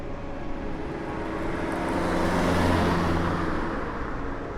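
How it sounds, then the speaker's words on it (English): A single car passes by outdoors, a soft rushing road noise that swells to a peak midway and then fades, faint and unaccompanied by voices. "Hold for car."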